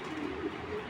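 A female racing pigeon of Belgian bloodline coos softly and close, a short low burbling call within about a second.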